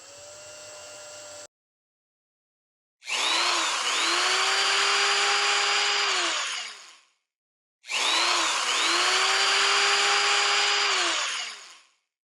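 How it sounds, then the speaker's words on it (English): A power drill bores holes into an acrylic plexiglass panel in two long, loud bursts, each rising to a steady high whine and then winding down, after a short stretch of quieter machine hum. "So now we have gone ahead and drilled all the little holes for the LED."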